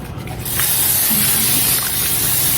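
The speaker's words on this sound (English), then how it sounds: "I'm just going to lightly spray this with vegetable oil." Vegetable oil sprayed from a can onto parchment paper in a baking pan, a steady close hissing spray starting abruptly and lasting a couple of seconds.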